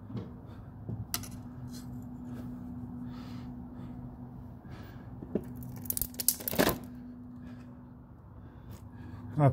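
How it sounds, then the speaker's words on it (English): A plastic cover being split and pried off a Smart Fortwo 451, faint scattered cracks and crinkly snaps with one louder burst of tearing and cracking near the middle over a low steady hum. "splitted this plastic cover"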